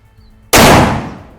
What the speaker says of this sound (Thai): ยิงไปที่เป้าซ้าย ผู้ยิงพร้อม พร้อมแล้วเริ่มยิง